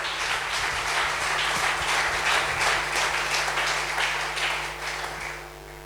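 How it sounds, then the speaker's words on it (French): A church congregation claps in steady, sustained applause for several seconds, the sound fading slightly toward the end. "Est-ce qu'on peut acclamer pour la parole?"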